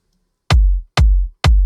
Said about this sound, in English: it's a nice in-your-face hard kick